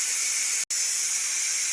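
Steam hisses loudly and continuously from a Ninja Foodi pressure cooker, with one brief cut near the start before the hiss resumes at the same level.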